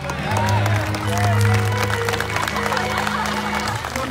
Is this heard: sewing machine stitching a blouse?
no